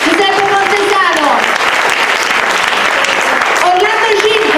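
Sustained, dense clapping from an audience at a literary talk event honouring its speakers, holding loud throughout with a speaking voice running over it.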